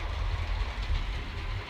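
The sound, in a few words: model train running on a layout trestle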